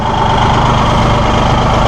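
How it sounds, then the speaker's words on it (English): A Massey Ferguson 1740M compact tractor with a Subaru engine idling close by, a steady, smooth low rumble with even vibration and no variation in pace. "Listen to that little Subaru purr."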